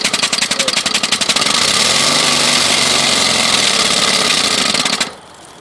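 A small lawn mower engine being converted to steam power runs at a steady idle, loud and close with a fast even chugging, then cuts out abruptly near the end, leaving a low background hum.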